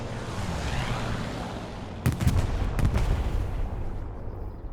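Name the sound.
P-47 Thunderbolt bombs exploding in Hell Let Loose video game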